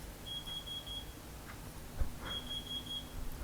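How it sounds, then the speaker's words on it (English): A high electronic beep sounds in two steady stretches with a pause between, over faint background rumble. "I thought I could hear beeping"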